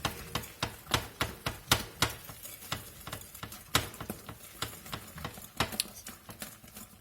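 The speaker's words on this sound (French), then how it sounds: "Alors, on mélange, on mélange, on mélange." Cherry cake batter is stirred in a bowl, giving a steady run of soft, wet scraping strokes in quick rhythm, close and fairly loud, with no talking.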